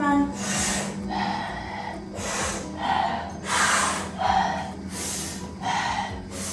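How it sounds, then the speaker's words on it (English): Slow rhythmic breathing alternates between mouth and nose, about six or seven close, airy inhales and exhales in a steady cycle, with a low hum beneath during a fascia relaxation exercise. "You can play with your mouth breathing and nose breathing."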